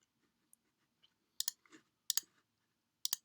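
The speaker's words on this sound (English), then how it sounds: "Click apply." Crisp mouse clicks while meshing in the Simcafe software, a few single and double clicks spaced out at close range over an otherwise quiet background.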